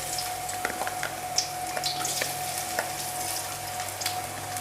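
Garlic frying in hot oil for a squid stir-fry, a steady close sizzle with scattered crackles and pops, no voices.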